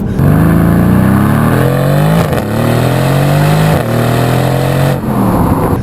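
A 2018 Mercedes-AMG GLC63 with a 4-liter twin-turbo V8 accelerates hard on a back road, its loud engine note climbing through the revs, with brief dips at two gear shifts before pulling again.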